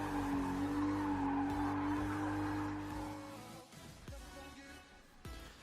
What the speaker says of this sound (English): I'm doing a 0 mile an hour burnout